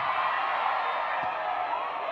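A crowd yells and whoops in a sustained, dense roar at a live Brazilian funk show, a broad steady wash of many voices with no single sound standing out.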